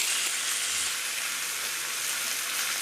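Sliced big onions, dried red chillies and curry leaves frying in a pan for a Kerala-style green gram dal curry, a steady, close, hissing sizzle that holds level throughout with no talk.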